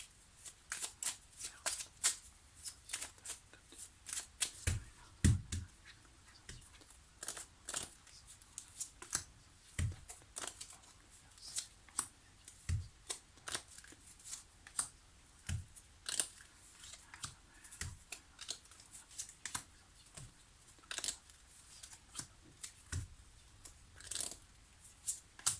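Tarot cards shuffled for a reading give a long run of crisp, papery riffles and snaps, repeated in irregular bursts, close and fairly quiet with no talking.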